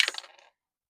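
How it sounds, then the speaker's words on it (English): Six-sided dice tossed onto a hard surface, a quick cluster of sharp clattering clicks that bounce and settle within half a second, close and alone. "Let me roll 6-sided dice."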